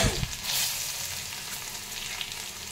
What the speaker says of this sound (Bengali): এবার 2টো শুকনো লঙ্কা ফোড়ন দিয়ে দিলাম।